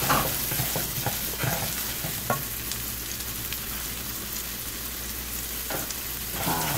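Onion and shallots for palabok sauté in a hot pan, giving a close, continuous sizzle with scraping stirs and bursts of spitting oil throughout.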